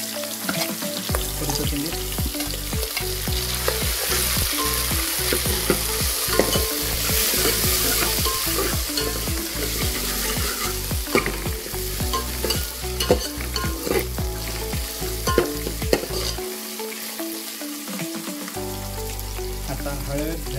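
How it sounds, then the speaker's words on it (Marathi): Mutton fat frying in hot oil for a village-style mutton rassa, a steady crackling sizzle with frequent stirring clatter from a spoon against the pot, close and continuous, with a brief spoken aside over it. "चरबी आता तळूत आपण तेलामध्ये."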